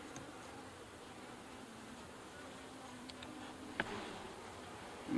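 Honey bees hum in a steady, low buzz around an open horizontal hive, a continuous drone filling the whole span with a single faint tap near the end.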